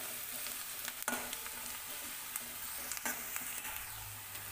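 Onions are sautéed in a pan for dhaba-style whole masoor, a soft, faint sizzle with occasional light clicks and scrapes of a spatula.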